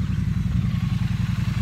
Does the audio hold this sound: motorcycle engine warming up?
yes